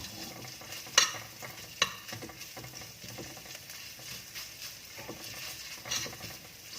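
Spices stir-fry over low heat for Thai braised pork, a soft steady sizzle with light scraping and a couple of sharper utensil knocks against the pan, close and alone.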